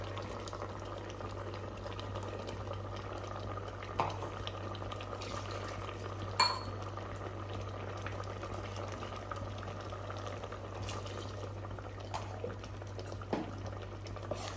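Soft, steady bubbling of a coconut and cumin curry simmering on the boil in a pot, faint and continuous over a low hum, with a couple of small knocks.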